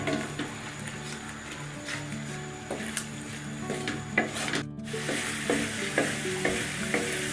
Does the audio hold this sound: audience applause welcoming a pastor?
no